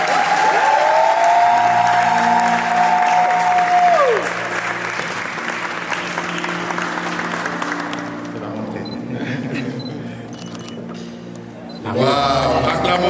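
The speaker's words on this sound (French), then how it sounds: "Sous vos ovations, s'il vous plaît." A church wedding crowd breaks into loud, sustained applause that fills the room, then slowly thins out and fades. A voice speaks over the clapping, and a fresh burst of cheering rises at the very end.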